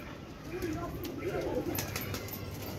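Pigeons coo softly in a low, rolling murmur over steady background noise, with a few faint higher chirps; the birds are newly acquired and were released about half an hour earlier.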